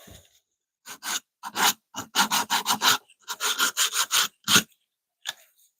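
Quick back-and-forth sanding strokes on a small wooden spoon, close up, in uneven bursts of several rasps with brief pauses.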